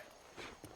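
Horse hooves clip-clop briefly in the Western video game Red Dead Redemption, a few soft, fairly quiet steps on a dirt street with faint background ambience and no speech.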